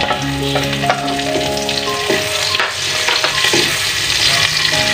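Onion sizzles loudly in a hot pan as sautéed pancit is prepared, with steady frying crackle and occasional scraping stir strokes, no voices over it.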